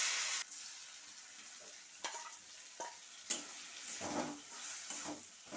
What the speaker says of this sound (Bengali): এখন আমি এই যে পাতা বাটাটা ঢেলে দিচ্ছি